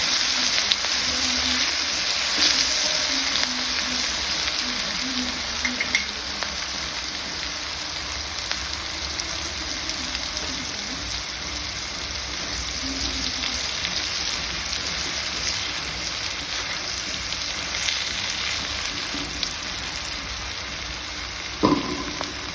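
Onions sautéing in a pan for a bangus fish steak dish give a steady, soft sizzle and crackle that runs on its own throughout, ending with a brief clink near the close.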